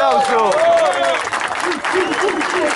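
A crowd at a freestyle rap battle tournament final applauds and cheers loudly, a dense roar of clapping mixed with shouting voices and whoops close up throughout.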